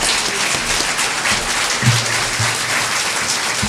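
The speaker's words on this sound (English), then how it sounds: "Give them both a round of applause." Steady applause from the audience at a state senate debate in Oklahoma, a dense and even patter of clapping that holds throughout with a few low thumps beneath it.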